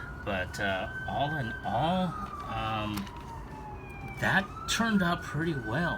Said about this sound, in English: if you can hear an ambulance in the background